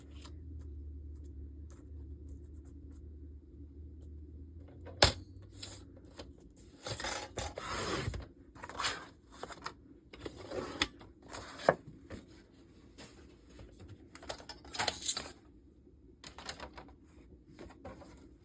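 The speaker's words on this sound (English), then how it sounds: "Now I'm just going to trim my paper so that it just fits" Paper is trimmed to size for a handmade card, heard as close scraping, rasping and sliding strokes with scattered clicks and taps. A low hum sits underneath at the start, and no voice is heard.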